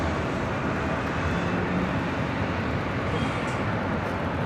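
Boeing 737 MAX 8 in Samoa livery arriving at LAX on runway 24 left, a steady broadband jet roar holding at constant loudness throughout with no voices.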